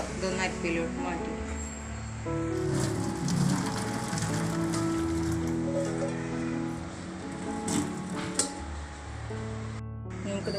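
Boiled carrots and their hot water are tipped into a metal strainer in a home kitchen. Water splashes and patters steadily for several seconds, with light clinks of metal and some background voices.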